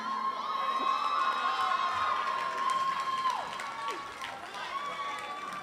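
A crowd at a community college graduation ceremony cheers and shouts in a sustained roar, with whoops and high excited voices riding over a dense wash of applause.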